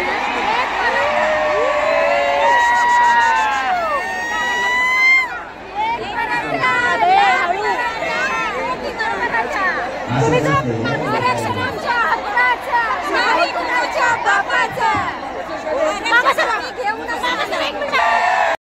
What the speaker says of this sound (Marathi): युथ वगैरे खूप गर्दी झाली इकडे